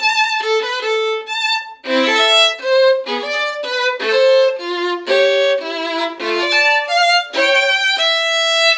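Solo violin plays Bach with the bass notes placed on the beat, a steady run of rich, sustained bowed notes and chords moving without pause, loud and close with no talking.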